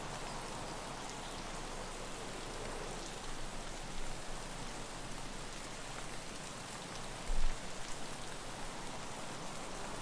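Steady rainfall in the video game Escape from Tarkov, an even hiss of drops on surfaces that continues unbroken with no voices.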